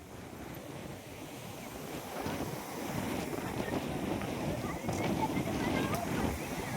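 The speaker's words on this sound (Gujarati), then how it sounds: "જો જો દરિયો દરિયો" Sea waves at the shore along the Dwarka–Somnath road rumble and wash steadily, growing louder toward the end, with heavy wind buffeting the microphone throughout.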